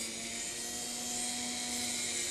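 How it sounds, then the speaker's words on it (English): A rotary grinding instrument runs steadily on a denture tooth's collar, giving a continuous high-pitched whine with a constant tone for a few seconds, close and alone. "we'll just take a grinding instrument, a rotary grinding instrument of some sort, and we're going to grind off a portion of the collar of that tooth"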